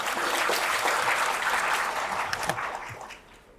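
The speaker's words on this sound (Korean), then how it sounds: "저도 한번 박수 좀 쳐주시죠." An audience at a seminar on accounting standards breaks into applause, a dense patter of many hands that holds steady and then tapers off near the end, moderately close in a hall.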